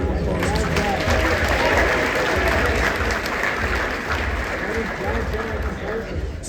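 Audience applauding throughout at a Blerdcon closing ceremony, a dense, steady wash of clapping mixed with crowd cheering and murmur.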